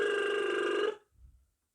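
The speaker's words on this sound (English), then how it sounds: "A lip trill sounds like this." A singer demonstrates a lip trill warm-up: a single fluttering, buzzing vocal tone held for just under a second, close and clear, then a soft breath as it stops.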